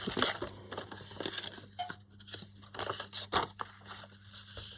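Paper being cut for a collage card project, with close, soft snips and rustling crinkles in uneven bursts over a low steady hum.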